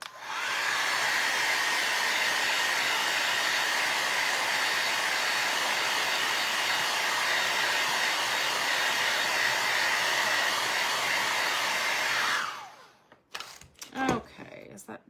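A hair dryer runs steadily and close for about twelve seconds, drying a craft piece made from a vinyl record, then cuts off, leaving faint handling noises and brief talk.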